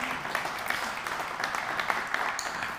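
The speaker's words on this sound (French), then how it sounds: "on applaudit Steve" A crowd at a car club gathering applauds a speaker, dense, continuous clapping at an even level for the whole moment, close and moderately loud with no voices over it.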